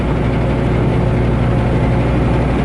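A heavy truck engine idles steadily at close range, a low continuous rumble with a slight throb and no voices.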